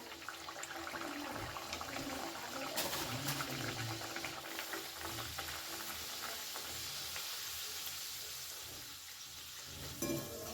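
A green pea kachori fries in hot oil, a continuous dense bubbling sizzle that holds steady, eases slightly near the end, then ends with a short knock.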